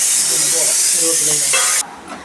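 Mustard seeds and cumin hiss and crackle loudly in hot oil in a pan. The steady sizzle cuts off sharply near the end, leaving only faint sound.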